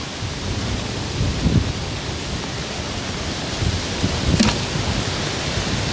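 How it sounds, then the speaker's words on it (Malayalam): Heavy rain and gusting wind over a Kumbalangi backwater roar as a steady broadband wash, close and loud, with a couple of brief louder gusts and no talking. "നല്ല ഒടുക്കത്തെ മഴ ഒടുക്കത്തെ കാറ്റും ഉണ്ടാ"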